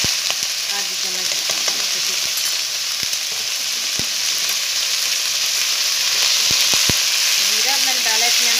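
Cumin seeds sizzle steadily in hot ghee and oil for a chicken roll tikki, a dense, close frying hiss broken by a few sharp clicks and pops from the pan.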